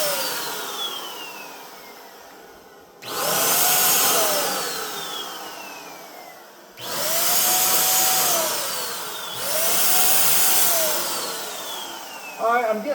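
Spray gun blowing candy paint in bursts: three loud, steady hissing blasts of a few seconds each, separated by pauses where a faint background hiss and a whistling tone linger, with no talking.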